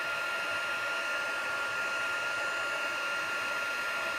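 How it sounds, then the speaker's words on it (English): A heat embossing tool blows hot air in a steady, loud, continuous hiss like a hair dryer, holding an even level throughout with no voices. "talking over the noise of the heat embosser"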